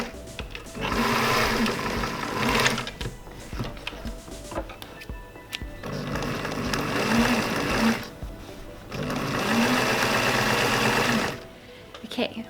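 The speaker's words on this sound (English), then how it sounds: "I'm going to sew these together quickly and check that they fit" A sewing machine stitches skirt pieces together in three sustained whirring runs with brief pauses between, its motor hum and needle chatter close and steady at moderate loudness.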